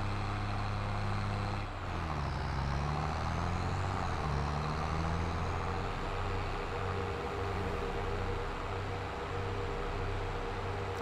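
John Deere vehicle driving along a road in Farming Simulator 22, a steady loud engine drone with a low rumble and broadband road noise, pitch dipping briefly then holding level.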